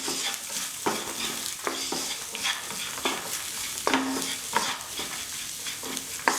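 A spoon stirs seasoning through a plant-based aubergine bolognese in a pan, a soft simmering sizzle punctuated by regular scraping strokes roughly once a second, close and without speech.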